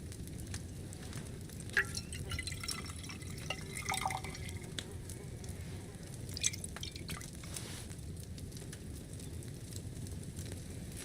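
Liquid trickles and drips during alchemy in the game Kingdom Come Deliverance II, a quiet, patchy run of small splashes and drips over a low background hum, with no talk.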